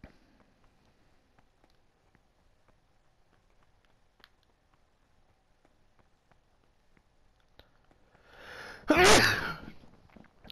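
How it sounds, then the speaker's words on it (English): A single loud, close sneeze bursts out near the end during a Kingdom Come: Deliverance game session, after a long stretch of near silence with faint clicks. "I'm about to sneeze."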